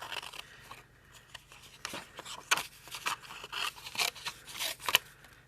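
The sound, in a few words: paper snips cutting paper for a pop-up card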